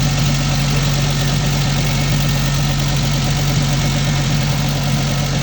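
A car engine idles steadily during a periodic service check on a four-post lift, with a constant low hum and continuous mechanical rattle and no pauses or talk.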